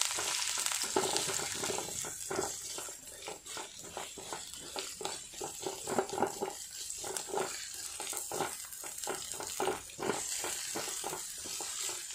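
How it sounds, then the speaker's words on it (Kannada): Green chillies and chopped onion fry in a pan for tomato chutney, giving a faint, low sizzle with irregular stirring taps and scrapes and no talking. "ಇದನ್ನು ಚೆನ್ನಾಗಿ ಫ್ರೈ ಮಾಡಬೇಕು"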